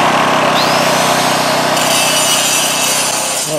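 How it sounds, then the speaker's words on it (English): Grinder grinding weld slag out of a cast iron concrete mixer during a refit, a loud, continuous abrasive whine and rasp held steadily close up with no pauses. "get the grinder down, grind that out as much as possible"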